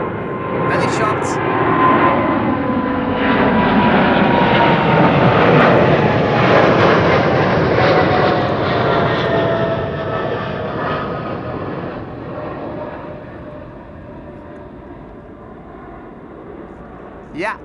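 A light airliner climbs out after takeoff at Amsterdam Schiphol, its engine roar broad and steady for most of the passage, then slowly fading as it gains height, while spotters chat over it.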